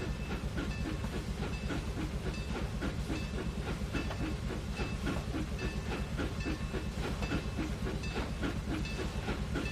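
A steam train backs up slowly in the Trainz 2019 railway simulator, with rhythmic clanking wheel beats and chuffs over a constant hiss and low rumble, loud and unbroken throughout.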